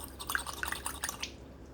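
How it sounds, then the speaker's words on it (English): A sterling silver ring is dipped in water and lifted out, giving a quick patter of close, light drips and trickles for about a second before going quiet. "let me dip it in the water and show you, getting all that mess off of it."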